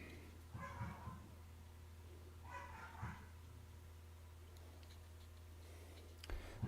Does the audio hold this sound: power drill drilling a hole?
no